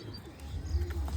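Pigeons kept for flying and breeding in a home loft, with low, soft cooing close by over a faint background.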